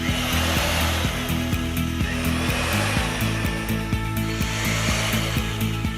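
A power drill with a small bit boring holes into a wooden ceiling joist: a loud, steady motor whine with rhythmic pitch dips as the bit bites into the wood, close up.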